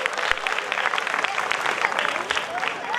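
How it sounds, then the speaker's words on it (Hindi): Brisk applause from a crowd at a school ceremony unveiling a statue of Bhagat Singh, dense clapping running steadily throughout with a voice faintly audible beneath it. "जोरदार तालियां बच्चों के बेटियों के लिए।"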